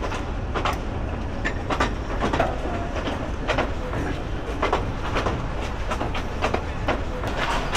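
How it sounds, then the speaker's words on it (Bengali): A train rolls past at a small rural railway station, a steady rumbling wash with repeated rail clicks running throughout, fairly loud and close, with no talk over it. "ওই যে যাইতেছে, কি ট্রেন রে বাবা!"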